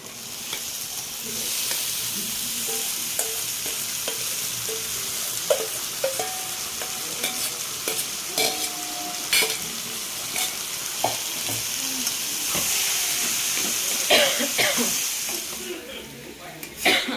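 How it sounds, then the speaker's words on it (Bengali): Spice masala with bay leaf stir-fried in a pan, a steady sizzle broken by sharp scrapes and clinks of a spatula at irregular intervals throughout, fairly close, with occasional voices murmuring in the background. "একটু তেজপাতা এদিকে মশলাটা একটু কষানো হোক"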